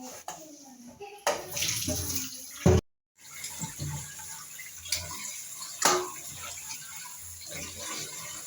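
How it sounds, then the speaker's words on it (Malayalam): Tilapia is washed in a vessel under running tap water, with close splashing and gushing and a brief cut to silence partway through. A few sharper splashes punctuate the steady flow. "അപ്പോൾ അത് ഒരു പാത്രത്തിലാക്കി നന്നായി വൃത്തിയാക്കി കഴുകാൻ പോവുകയാണ്"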